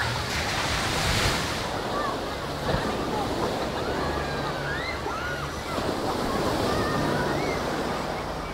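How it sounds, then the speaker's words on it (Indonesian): Large ocean waves pound Carita beach in bad weather, making a continuous heavy roar of surf with gusting wind buffeting the microphone throughout. "Dan ombaknya pun bahkan sangat besar sekali."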